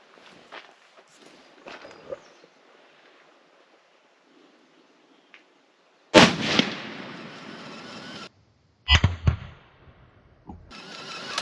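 Rifle shots fired at an outdoor range in calm weather, a couple of sharp, loud close reports separated by quiet gaps, each with a short decaying echo.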